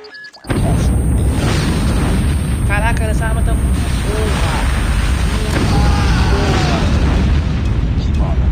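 A nuke detonating in Call of Duty Mobile on the Tunisia map lets out a huge, sustained roaring rumble that begins abruptly after half a second and keeps thundering to the end, with faint voices drifting through it.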